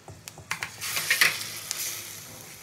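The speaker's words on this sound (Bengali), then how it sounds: "ফোড়নটা খুব ভালো করে আমি ভেজে নেবো" Whole spices tempering in hot oil for a malai prawn curry crackle with a short burst of sizzling, with a few sharp pops and stirring clinks, then the sizzle settles to a steadier hiss.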